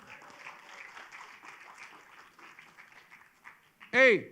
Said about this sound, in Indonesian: Tepuk tangan jangan tanggung-tanggung.